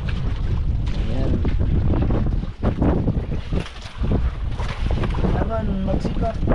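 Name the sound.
big waves around fishing boat at sea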